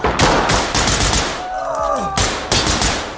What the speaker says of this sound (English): Oh, I was shooting my shadow